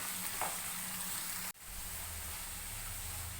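Onions and shallots fry in a pan over high flame, giving a continuous dense sizzle that hisses evenly throughout, with one brief dip and jolt midway as they are moved, close-up and with no voices.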